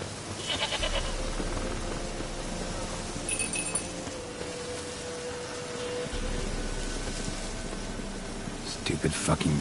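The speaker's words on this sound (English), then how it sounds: "Stupid fucking goat." A goat bleats in The Witcher 3: Wild Hunt, a short cry heard near the start amid game ambience, with a voice talking over parts of the scene.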